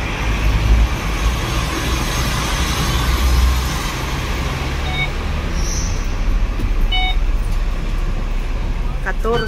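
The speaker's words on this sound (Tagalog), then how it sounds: "Ito ang sasakyan namin guys" A ride aboard the A42 bus in Tongchong, giving a steady, close rumble of road and engine noise throughout, with faint higher clatter and no distinct talk.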